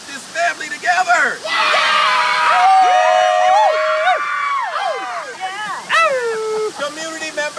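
Children shouting "yeah" together at the tops of their lungs at an outdoor family waterfall ceremony, a loud, sustained burst of high-pitched group yelling and cheering, with adult voices mixed in.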